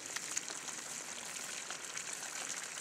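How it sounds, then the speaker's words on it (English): Water sprays and drips past the socket of a water-powered fish tape pusher, giving a close, even hiss with small scattered spatters and no voices. "Water coming out that's getting past the socket."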